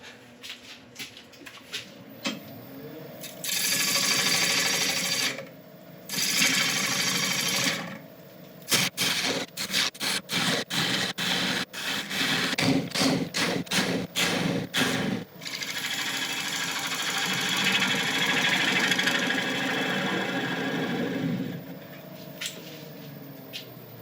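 A wood lathe turns a beech bowl while a new tenon is cut, with long stretches of loud scraping and rasping broken by a run of rapid intermittent cutting bursts, close and without speech.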